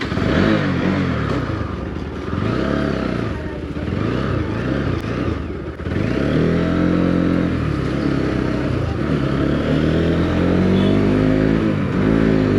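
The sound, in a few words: motorcycle riding, engine and gear changes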